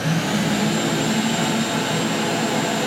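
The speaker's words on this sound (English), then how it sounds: "Okay, so now turn on the vacuum cleaner." A vacuum cleaner runs steadily up close, a continuous loud rushing roar with a faint high whine and no change in level over about three seconds, with no talk.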